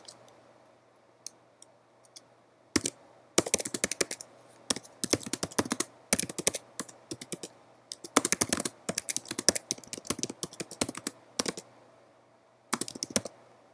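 Someone types on a computer keyboard in irregular bursts of quick, crisp key clicks separated by short pauses, clear and close against a quiet background hum.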